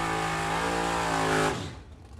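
Drag race cars at a Super Pro bracket event launching off the starting line: a loud, harmonic engine roar that holds steady, then quickly fades as the cars pull away.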